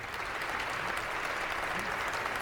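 A sustained standing ovation for a retiring U.S. House leader (Pelosi) fills the chamber, a dense, even roar of clapping from a large crowd heard at a distance.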